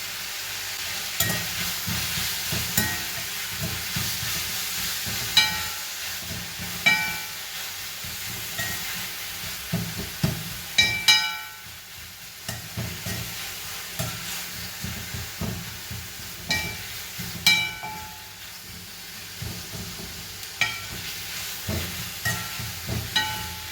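Vegetables for a breakfast dish sauté in a pan with salt added, giving a steady sizzle with repeated stirring scrapes and clinks throughout, close and fairly loud, with no talking.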